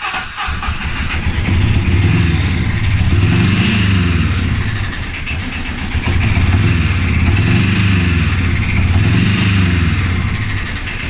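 An Arctic Cat 700 diesel quad with air in its fuel lines runs just after starting, a loud close diesel idle with a rough rhythmic knock and uneven surging throughout.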